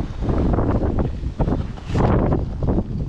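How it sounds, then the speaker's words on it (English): Wind blowing by a fishing lake, a loud, continuous buffeting rumble against the microphone with gusty surges, close and steady for the whole stretch. "this wind's picking up"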